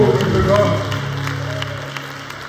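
A funeral congregation breaks into applause in praise, a rough scattered clapping that starts loud and then thins, heard under a voice speaking over it.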